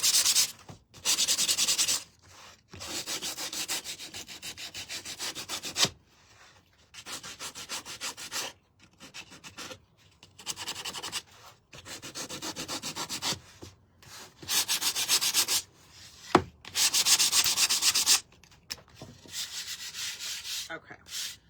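Hand sanding of a painting surface during a heart-themed paint project: repeated rough rubbing strokes in bursts of a second or two, separated by short pauses, close and fairly loud, with no talking.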